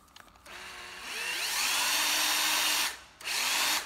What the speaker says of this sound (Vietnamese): Đây là con máy khoan Hitachi 12V.